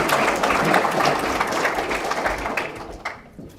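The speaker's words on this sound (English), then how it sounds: "Now we can clap." An audience at a student certification celebration applauds steadily for a few seconds, the clapping fading out toward the end.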